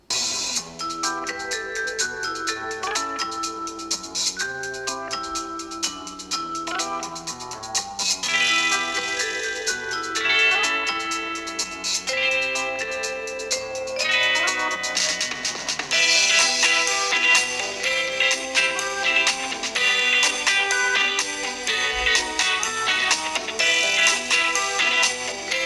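Stereo speakers on an OPPO Reno10 Pro+ 5G phone play a bright, steady stretch of music with chiming melodic notes, continuous and fairly loud with no talking.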